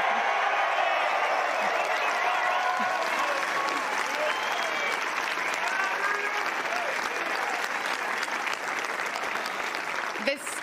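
A Wimbledon tennis crowd applauds in a dense, sustained wash of clapping that holds steady for about ten seconds, with faint cheering mixed in.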